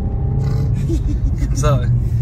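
A Renault Megane RS rumbles steadily from inside the car while driving, and near the end the engine note shifts sharply as the gearbox changes into a higher gear.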